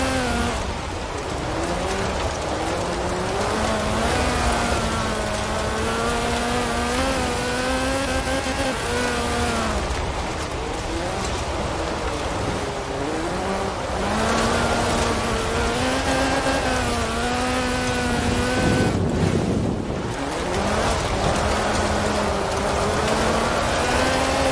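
A Lotus Sunbeam rally car races in Forza Horizon, its engine revving up and down through repeated rising and falling gear pulls, loud and close, with a hissing rain-like wash running underneath.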